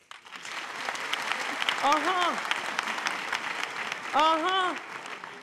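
A stand-up comedy audience applauds steadily through the stretch, a wash of clapping and crowd noise, while a voice calls out twice over it.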